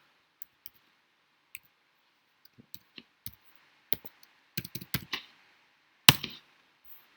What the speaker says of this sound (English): So I'm going to then type in my dimensions